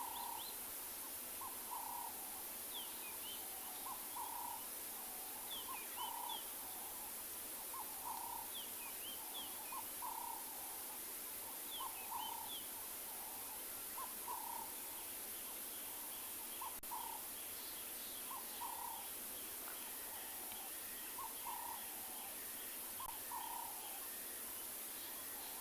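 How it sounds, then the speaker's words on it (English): Bird calls at sunrise on a safari, a repeated low hooting call like an owl's, evenly spaced about every second and a half over steady background hiss, with fainter chirps higher up and no talking. "That's nice sounds of a bird"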